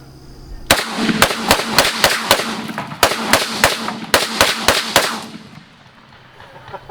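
A rapid string of loud, close gunshots rings out, over a dozen sharp cracks in quick bursts with brief pauses, fired into wood set against a brick backstop, then the echo fades into quiet.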